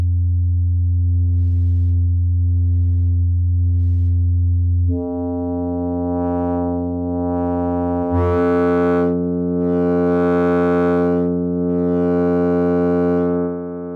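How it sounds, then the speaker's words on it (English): A Cre8audio East Beast synth holds a steady sine-wave tone, then thickens into a buzzier, distorted drone as sustain is brought in, with pulsing brighter swells over the sustained pitch. "It's definitely changing the tone as you bring in the sustain."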